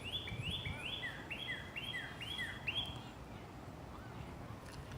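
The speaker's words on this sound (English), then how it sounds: "the birds are chirping again" Outdoors on a lovely day, a bird repeats a quick series of bright, rising chirps about six or seven times in a row, clear above a low background hum, then falls quiet.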